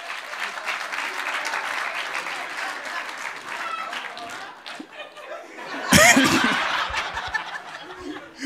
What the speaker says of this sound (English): You are clapping now